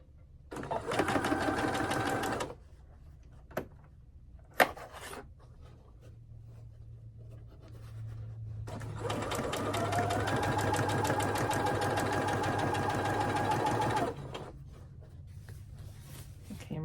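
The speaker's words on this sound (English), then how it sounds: "What I want to do is I want to back stitch this just a little." A sewing machine back stitches a pillow case, with two loud, rapid mechanical whirring runs up close, the first short and the second longer, separated by a quieter pause holding a sharp tap and faint handling sounds.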